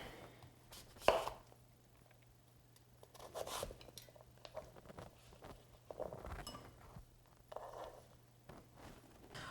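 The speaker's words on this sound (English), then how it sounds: "simply start chopping away" A knife taps against a cutting board in short irregular bursts of chopping, close and fairly quiet, with pauses between strokes.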